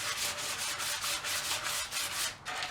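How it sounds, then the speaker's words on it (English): Coarse sandpaper rubs back and forth along the edges of a basic plywood trunk floor mat, a steady run of rasping strokes, close and fairly loud, with no talking. "I have sandpaper here. The intention is to sand and make sure that the contact surfaces do not end up causing injury."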